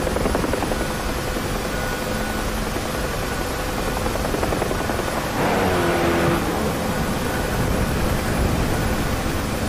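A helicopter engine in the DCS combat flight game roars as a loud, steady, dense drone for the whole stretch, with a brief swell near the middle and no talk over it.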